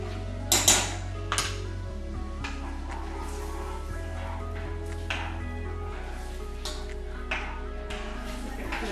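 A spoon clinks and scrapes against a pot while tomato puree is stirred into dhal, with several light metallic taps and pings over a steady low hum, close by and without speech.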